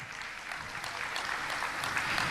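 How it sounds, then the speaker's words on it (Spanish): A church congregation bursts into sustained applause, a dense wash of clapping that holds steady and swells slightly toward the end. "Vamos a darle un fuerte aplauso a la palabra del Señor."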